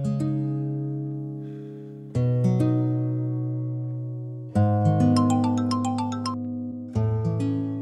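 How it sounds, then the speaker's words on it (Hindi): A phone ringtone plays a ringing electronic melody, each phrase starting with a bright chime and sustaining before the next begins. "शुक्र करो फरजाना आंटी की कॉल आ गई"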